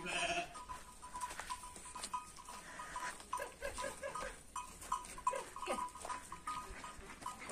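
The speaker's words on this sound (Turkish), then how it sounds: "Bunlar da kuzu. Geçen seneki kuzularım." Last year's sheep lambs bleat repeatedly on a farm, several calls overlapping at moderate distance, with faint background noise and no clear talk.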